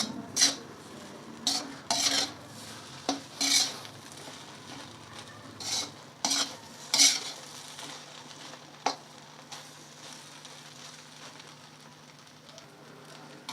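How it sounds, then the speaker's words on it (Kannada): Egg rice being stirred and mixed in a pan over a high flame, with intermittent scraping and clinking of a spatula against metal in short bursts over a low steady background. "ಈಗ ನೀಟಾಗೆಲ್ಲ ಮಿಕ್ಸ್ ಮಾಡೋಣ."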